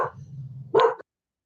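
Dogs bark in one short, loud burst that follows a low, steady rumble, then the sound cuts to silence.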